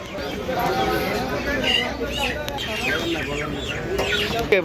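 Chickens cluck in a busy poultry market among live fowl for sale, the calls rising repeatedly over steady crowd chatter and people talking nearby.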